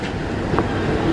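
KRL 6032, an electric commuter train, rolls into Bogor station with a steady, loud rumble and a brief squeal, heard without talk.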